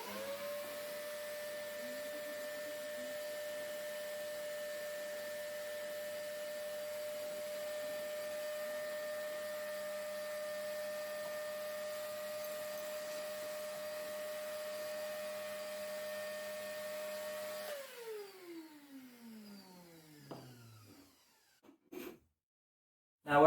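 A shop vac runs with a steady, tonal motor whine and hum for around seventeen seconds, then switches off and spins down with a falling pitch, followed by a few faint knocks.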